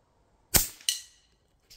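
A sharp crack from a Hatsan BT65 Elite air rifle, followed a moment later by a bright metallic ping as the pellet strikes a small pan, with a brief ringing tail and a faint tick afterward.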